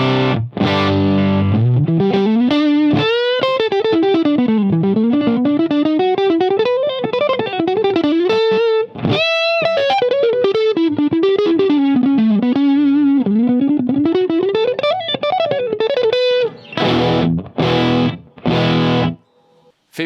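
Distorted electric guitar through a Harley Benton Mighty 15TH tube amp with boost engaged, playing a loud, saturated melodic run that winds up and down, ending with a few choppy chords and a short cutoff.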